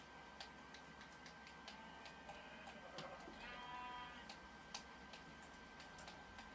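Baby sheep bleating in a video game, a few faint wavering bleats around the middle over quiet ticking game sounds, with no talk.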